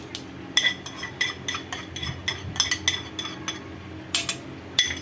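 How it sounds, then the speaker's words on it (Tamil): Fried golden-brown onions are tipped and scraped into a pot of Hyderabadi dalcha, making a quick series of sharp metallic clinks and taps of a utensil against cookware, close and irregular, with no talking. "இப்போ இந்த ஆனியனையும் இதில் கொட்டிடலாம்"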